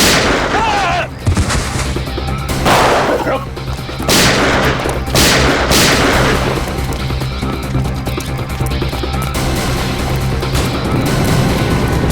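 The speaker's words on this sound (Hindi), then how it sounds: "एक तो खून किया, ऊपर से सीआईडी के ऊपर फायरिंग।" Gunfire erupts in a CID police TV drama scene: several loud, sharp shots crack in quick succession before settling into a sustained, noisy, rumbling din.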